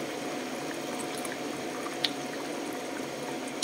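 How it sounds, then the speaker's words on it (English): Water poured into a cooking pot of simmering meat and vegetables, a steady continuous splashing flow held at an even level throughout, close to the microphone with no talk. "I need to add more water on it because only small water in there."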